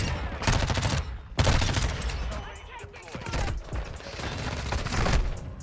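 Automatic gunfire in the video game Call of Duty: Modern Warfare 2, with close, loud bursts at steady intervals, several volleys overlapping amid a noisy game soundscape.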